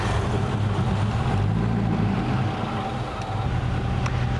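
The Rolls-Royce-derived engine of a Blower Bentley runs with a steady, loud, low rumble that dips briefly near the end, close by and with no talking.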